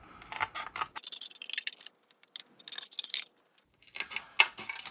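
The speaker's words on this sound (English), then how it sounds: "So you just take your scissors and you trim around all the cut lines" Curved scissors trimming a GFRP sprint car body panel, producing crisp, irregular snipping and rustling crackles of the stiff plastic close by, with short gaps between cuts.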